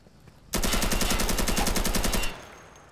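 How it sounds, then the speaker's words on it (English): A long, rapid burst of automatic gunfire in Garry's Mod, steady and close, rattling for nearly two seconds before cutting off abruptly. "Are you shooting him, or is he shooting you?"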